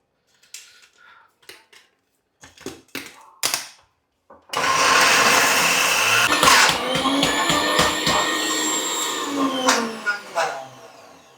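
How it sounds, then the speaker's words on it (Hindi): An electric grinder runs loud and steady, grinding a batch of almonds into homemade almond butter, its motor whirring with rattling pulses after a few brief clicks and handling noises. "अब इसको बाकी का भी ग्राइंड कर लेता हूँ"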